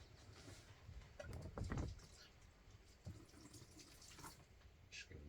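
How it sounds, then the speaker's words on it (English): Liquid Growmore feed is poured over garden plants, giving faint, uneven splashing and patter that swells and eases in short bursts. "I'll just go around and water all the plants with this now"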